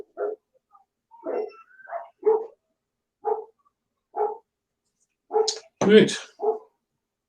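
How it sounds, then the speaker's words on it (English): A dog barks indoors in short bursts, one loud close bark standing out near the end, interleaved with a person talking. "That dog wanting in on the action."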